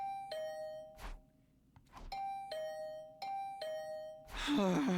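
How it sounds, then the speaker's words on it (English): Doorbell in The Hundred Line -Last Defense Academy- video game rings repeatedly, with several clear two-tone chimes in a row and a short gap between them, followed by a burst of other game sound at the end. "Fed up with the incessant rings, I opened the door to see who it was."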